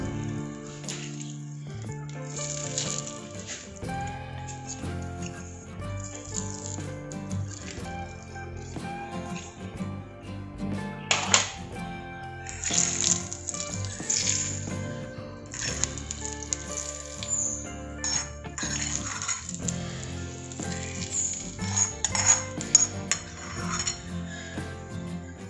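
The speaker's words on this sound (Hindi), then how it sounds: "जो सारी खांडवी बना कर रखी है उसके ऊपर से इस तरीके से तड़का थोड़ा थोड़ा डाल देंगे हम" Tempering spooned over rolled gujarati khandvi, with light sizzling and repeated clinks of a spoon against a pan and dishes in short bursts throughout, close up and without talk.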